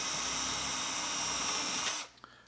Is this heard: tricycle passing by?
no